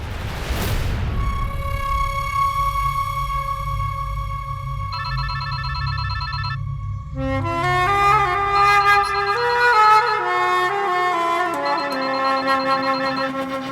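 A phone rings on a call, a steady repeating electronic ring tone that shifts to a louder melodic ringtone partway through, with no talking.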